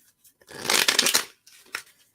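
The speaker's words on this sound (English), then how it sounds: "One more little shuffle here." A deck of cards being shuffled: one quick riffling burst, then a couple of short soft taps and clicks as the cards settle, close and alone.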